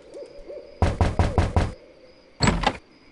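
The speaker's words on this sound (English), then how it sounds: "I think I'll knock." A series of five sharp, evenly spaced knocks on a wooden door in The Secret of Monkey Island, followed after a pause by a heavier burst of knocking, loud and close over faint background music.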